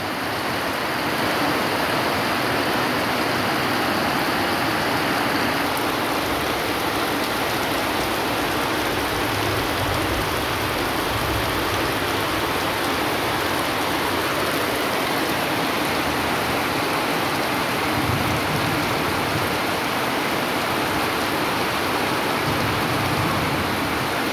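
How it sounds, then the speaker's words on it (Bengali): Heavy rain falls steadily in a rural area of Nilphamari, Bangladesh, making a dense, loud, unbroken roar of drops on surfaces that lasts throughout without a pause. No voices are heard. "অনেক জোরে বৃষ্টি পড়তেছে"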